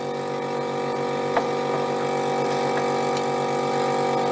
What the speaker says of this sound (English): now I'm just going to give it a little bit of a vacuum, so you'll see all of the water being sucked